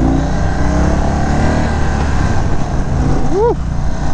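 A 2022 Indian Chief motorcycle engine roars loudly and steadily as it accelerates on a canyon ride in Arizona, with wind rush throughout and a brief whoop of a voice near the end.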